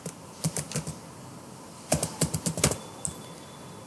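Computer keyboard keys clatter while Python code is typed, two bursts of quick, close keystrokes separated by a short pause.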